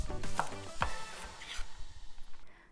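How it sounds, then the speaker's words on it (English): A knife chopping carrot into bite-sized pieces on a board for stuffed peppers soup, a few sharp close chops near the start, then quieter kitchen handling. "So I'm just chopping up carrot into bite-sized pieces"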